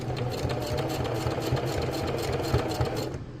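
A sewing machine stitches fabric with a rapid, steady mechanical whir and rhythmic needle thumps, close and even, running continuously before stopping right at the end.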